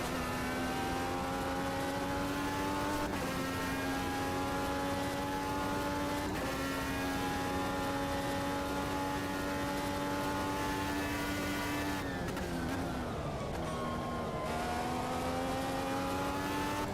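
In the Automobilista game, a race car engine drones loud and close while the driver trail brakes. Its pitch sweeps up and drops back with each gear change and lift, and a braking dip comes near the end.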